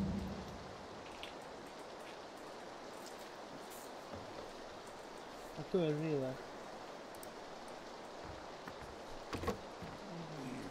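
Steady patter of rain in the battle royale game PUBG, a soft, even wash of drops under occasional voices talking.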